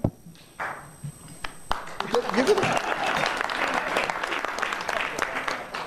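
Applause from a Rotary meeting audience starts with a few scattered claps, then swells into steady clapping from many hands under talking.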